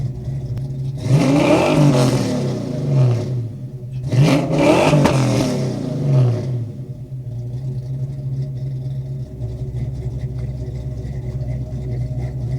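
A Fox Body Mustang's engine revs through a Flowmaster exhaust from about eight yards away, two loud rising-and-falling roars in quick succession, then settling into a steady, rumbling idle.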